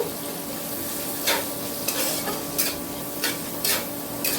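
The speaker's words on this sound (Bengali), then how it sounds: "পেঁয়াজটাও ভাজা করে নেব" Chopped onion frying with cumin seeds in a pan gives a steady, close sizzle, broken by about five sharp scraping stirs at regular intervals.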